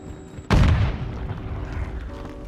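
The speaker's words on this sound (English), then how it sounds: "That was me too, that grenade." Grenade going off in Call of Duty MW2 ranked play: a sudden loud boom that hits hard, then a long rumbling decay under continuing in-game ambience, with no talk over it.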